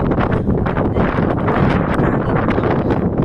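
Strong wind buffets the microphone in loud, continuous gusts, a rough rumbling roar with no voices.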